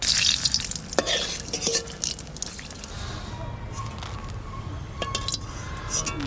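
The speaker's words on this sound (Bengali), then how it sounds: "শুকনো লঙ্কা ভেজে রাখবো" Dried red chillies fry in hot mustard oil in a pan at close range, with a crackling sizzle broken by sharp clatters of stirring.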